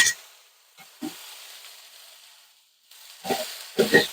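Vegetable broth and liquid smoke hit a pan of okra and sizzle in short, intermittent hissing bursts. Stretches of quiet separate the bursts, and the loudest spatters come near the end.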